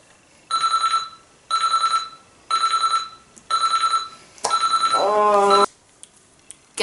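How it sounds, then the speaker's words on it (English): A loud electronic alarm rings in four evenly spaced bursts, then a longer warbling burst, with a short pause between each ring. "That sound, that alarm sound, it's horrible."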